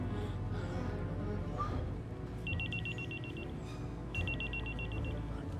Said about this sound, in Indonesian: siapa sih yang telepon?